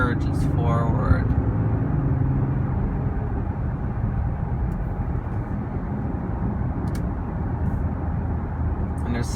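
A 2016 Audi Q5 with the 3.0 TDI diesel pulls hard on a rural road, its steady low engine and road rumble filling the whole stretch, with a brief voice near the start.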